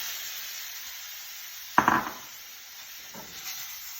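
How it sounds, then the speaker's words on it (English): Arborio rice tumbles all at once into a hot pan of garlic and oil, giving one sharp close burst of rattling grains that fades into a soft sizzle, with a faint second scrape shortly after. "that's the point we're gonna throw our arborio rice into the pan. All at once."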